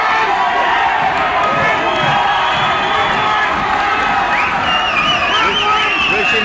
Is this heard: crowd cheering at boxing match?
yes